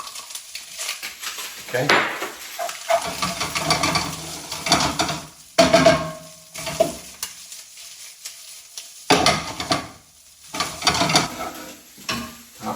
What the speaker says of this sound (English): Now I'm going to put the rest of the crab meat.